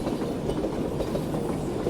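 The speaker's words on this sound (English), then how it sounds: "I think we have another parcel train ready, so that's pretty good timing" A parcel train arriving in the video game Gourdlets, a steady rolling rumble with soft rhythmic clickety-clack, moderately loud and continuous with no talking.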